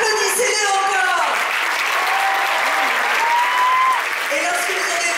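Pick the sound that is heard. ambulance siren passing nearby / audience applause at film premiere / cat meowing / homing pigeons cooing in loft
audience applause at film premiere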